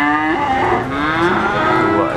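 Limousin cattle moo loudly and close by at a cattle market in Blitar, a drawn-out lowing call that holds on with no talking.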